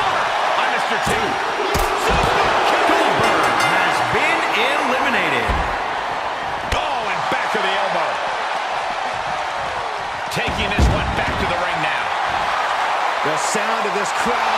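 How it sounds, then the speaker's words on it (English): A loud, roaring crowd fills a wrestling pay-per-view arena, with thuds of slams on the ring and a commentator speaking over the din throughout. "The sound of this crowd is deafening,"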